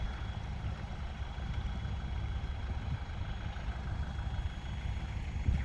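Tractor engine straining to pull a vehicle bogged deep in mud, a steady low rumbling drone at moderate distance, fairly quiet and continuous with no talk.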